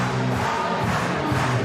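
A continuous wash of crowd noise from spectators at a women's bouldering final in Prague, loud and unbroken with no distinct individual shouts.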